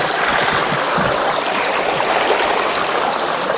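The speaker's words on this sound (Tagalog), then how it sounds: "Ang ganda ng batis dito." A mountain stream flows steadily, a broad continuous rush of water running close and loud without a break, with no voices over it.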